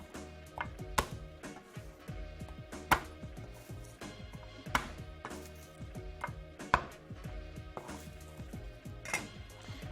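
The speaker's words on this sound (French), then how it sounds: "On va prendre l'ail, on va l'écraser." A large kitchen knife strikes and crushes garlic cloves on a board, giving a series of sharp, close thumps and chops at irregular intervals, with no voices.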